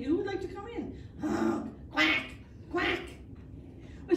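A storyteller's voice imitates a duck quacking while reading a children's tale about Chicken Little and Ducky Lucky, several short nasal quacks spaced about a second apart, close and clear.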